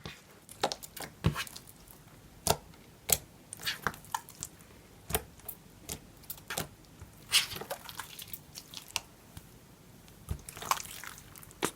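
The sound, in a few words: squishing activated slime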